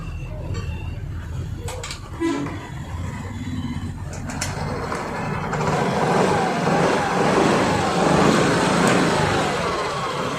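A Yamaha Ray ZR BS6 scooter with a battery recharge problem runs at idle, a steady engine drone that swells slightly midway, with people talking over it and birds faintly audible.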